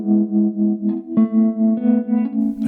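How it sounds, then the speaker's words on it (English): Guitar played through a tremolo pedal, sustained notes whose volume pulses up and down in a fast regular flutter, clean and close, ending with a brief bright accent. "Tremolo is when the volume of a note quickly fluctuates, creating this sort of fluttering sound."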